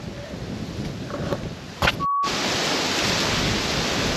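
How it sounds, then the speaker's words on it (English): Wind gusting outdoors on a farm during a wheat and sheep outing, a steady broadband roar that rises and holds loud after a brief dropout, buffeting the microphone close up with no talk. "Of course the wind picks up."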